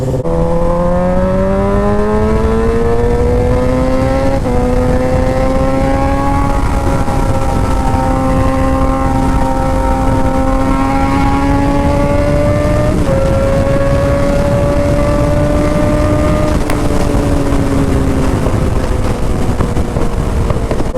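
A loud, droning motorcycle engine with straight-piped exhaust rises and shifts pitch through several gear changes, harsh and continuous with steady road noise.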